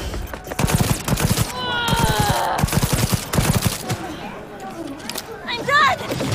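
Rapid gunfire in Cyberpunk 2077, loud repeated bursts of close automatic shots with brief pauses, mixed with game effects and talking voices.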